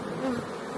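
Honey bees buzz inside a hive box, a faint, close hum with one brief louder drone from a passing bee, quiet overall and with no talking.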